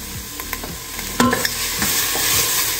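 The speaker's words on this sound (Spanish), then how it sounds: "Vamos moviendo para que no se nos vaya a pegar." A spoon stirs a semolina soup base in a cooking pot, giving soft scraping strokes and faint sizzling that repeat every half second or so, close and steady with no talk.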